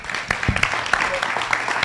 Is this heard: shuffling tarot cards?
no